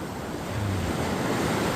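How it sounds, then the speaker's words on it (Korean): Ocean waves at Anmok Beach on a calm day, a steady wash of surf with wind noise on the microphone, no talking. "파도가 세지 않아서 공사분하고는 좋을 것 같네요."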